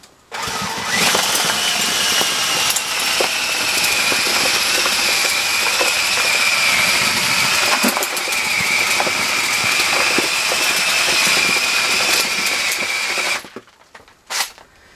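A homemade mixing tool with blades, driven by a drill, runs continuously at a loud steady whine and stops near the end.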